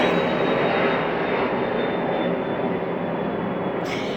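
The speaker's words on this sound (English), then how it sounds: "No, of course there's a plane." A fixed-wing airplane passes overhead outdoors, a steady broad engine roar holding loud for several seconds before easing slightly at the end, with no voices.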